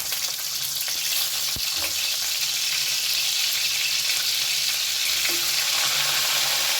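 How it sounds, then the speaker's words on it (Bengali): Paneer pieces frying in hot white oil for Afghani paneer, a steady bright crackling sizzle throughout, with a brief clink as a piece goes in. "তেল গরম হয়ে গেছে এবারে একে একে আমি পনিরের টুকরোগুলো এর মধ্যে দিয়ে দেবো"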